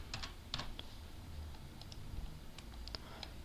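Keystrokes on a computer keyboard tapped in short irregular bursts, faint against a steady low background hum with no talking.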